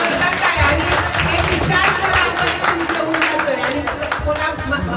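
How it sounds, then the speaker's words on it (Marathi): An audience claps steadily throughout a ceremony honoring guests at a tenth-grade class reunion held after 23 years at Shrinath Vidyalaya, Vadapuri, with voices and crowd chatter mixed into the dense applause. "जोरात टाळ्या वाजवा"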